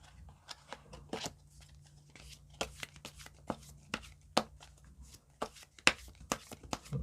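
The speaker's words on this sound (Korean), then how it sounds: "각각의 조언 카드를 한 장씩 뽑아보도록 할게요" Tarot cards are handled and drawn, giving scattered soft flicks and snaps of card stock at close range, irregular and quiet.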